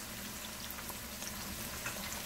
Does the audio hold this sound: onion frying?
yes